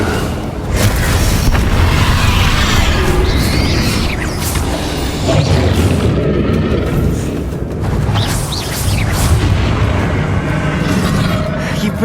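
The Confringo spell in Hogwarts Legacy fires during a San Bakar's trial fight, a loud, sustained blast of booming, roaring explosive noise that fills the whole stretch, with a character's voice briefly cutting in.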